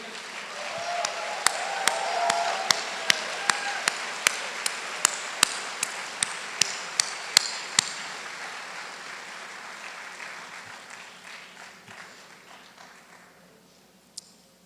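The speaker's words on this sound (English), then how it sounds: "A big round of applause for each one of you in this audience today." Warm audience applause swells and holds for several seconds, with sharp individual claps popping through, then gradually thins out and fades.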